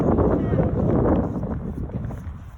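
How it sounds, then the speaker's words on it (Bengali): Wind coming off the hills buffets the microphone in strong, rumbling gusts that ease off toward the end, with faint voices underneath. "এখানে পাহাড় থেকে বাতাস আসতেছে"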